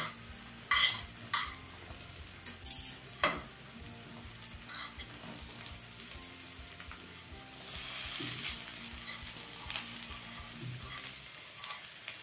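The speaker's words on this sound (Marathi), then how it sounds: "हाय फ्लेम वरती ह्या सर्व भाज्या आपण सॉटे करून घेऊया, परतून घेऊया।" Chopped vegetables for sweet corn soup being sautéed over a high gas flame in a pan, a steady sizzle with several sharp stirring clatters near the start and a louder hiss of frying midway, no voices.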